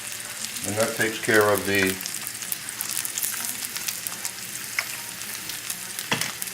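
Lamb shanks browning in a hot pan give off a steady close sizzle and crackle, with a voice speaking over the first couple of seconds before the frying carries on alone.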